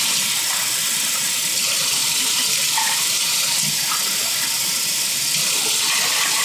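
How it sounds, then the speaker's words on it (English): Tap water runs steadily into a jar being cleaned of fertilizer while potting broccoli and cabbage, a continuous close hiss and splash with no talk. "is I just fill this with water."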